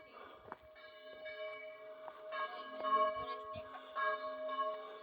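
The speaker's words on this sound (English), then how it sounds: "But those church bells that you can hear," Church bells ring out over the town of Bocairent, a cluster of clear metallic tones striking repeatedly and overlapping, moderately distant and swelling in and out.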